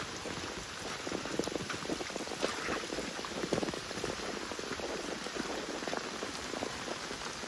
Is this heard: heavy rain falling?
yes